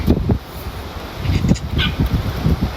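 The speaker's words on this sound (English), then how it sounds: "It's bloody windy, that's the worst thing." Gusty wind buffets the microphone in low, uneven rumbling bursts, with a brief higher chirp partway through.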